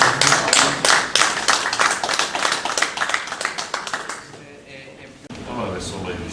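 Audience clapping at a poetry evening, brisk and rhythmic hand claps close by for about four seconds, then dying away into room noise and a voice.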